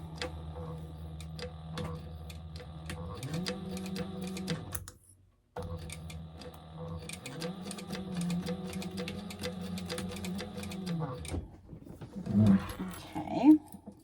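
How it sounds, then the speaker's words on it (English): A home sewing machine runs close up, top stitching across the top of a crossbody bag in long steady bursts of rapid needle ticking, with a brief pause midway and some handling noise near the end. "we're just going to do a top stitch across the top here"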